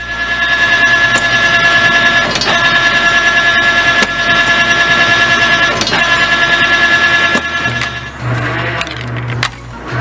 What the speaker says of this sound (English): State-of-the-art machinery for spring production, say the manufacturers of this 6-axis machine.